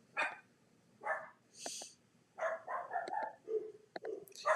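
A dog barks repeatedly in irregular bursts, mid-distance and moderately loud, with a few higher yips mixed in and no talking.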